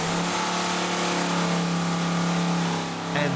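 A car engine revs steadily at close range before mothballs are added to its fuel tank, a sustained mid-pitched drone that dips briefly near the end.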